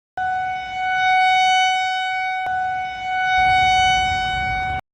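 A loud, steady lightning warning siren, the Voice of Thor horn system, blares with a sustained multi-tone horn, holding nearly constant for about five seconds with one brief click midway.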